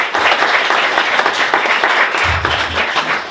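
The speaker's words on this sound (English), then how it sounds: "It's a big warm round of applause for Dawn." Warm audience applause in a local radio studio for a station director, close and lively clapping from a modest crowd that runs steadily throughout.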